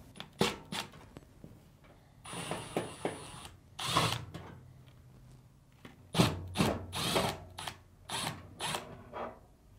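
Screws are removed from the back of a Samsung dryer drum assembly, with short bursts of a power driver whirring, then clicks, taps and handling noises, near and fairly quiet.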